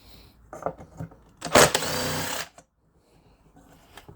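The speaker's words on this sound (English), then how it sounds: "I'm going to use the trusty Aldi Ferrex impact." An Aldi Ferrex impact driver loosens bolts on a salvaged industrial bulkhead light, first in a few short whirring bursts, then in one loud, close, second-long hammering rattle before it stops.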